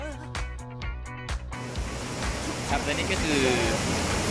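A large waterfall in the forest of Khao Luang National Park, Nakhon Si Thammarat, roars as a loud, steady broadband rush after a brief burst of music, with someone talking over the water.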